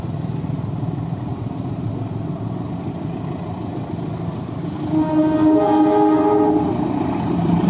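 A Penataran passenger train pulls out of Malang Kota Baru station in Indonesia, a loud, steady rumble of engine and wheels that swells midway as tonal horn-like whining rises over the continuous roar.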